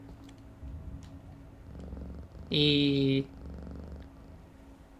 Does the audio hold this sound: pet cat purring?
yes